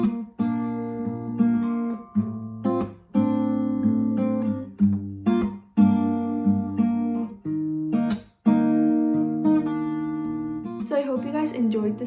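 Acoustic guitar strums the four-chord progression of a song in an easy beginner arrangement, with steady, close, fairly loud strumming that shifts between chords across several bars, with no talking over it.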